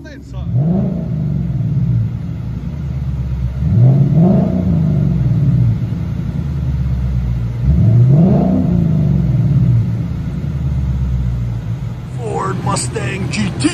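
Ford Mustang GT 5.0 with true dual straight pipes, X-pipe and quad tips, rumbling at a loud idle and revved three times in rising-and-falling sweeps, with a brief clatter near the end.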